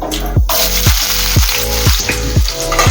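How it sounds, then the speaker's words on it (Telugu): Sliced onions frying in hot oil for an egg and ridge gourd curry, a loud close sizzle broken by regular rhythmic scrapes of a spatula against the pan about twice a second. "ఆనియన్స్ అన్ని బాగా వేగనివ్వాలండి, ఎర్రగా ఫ్రై అవ్వాలి"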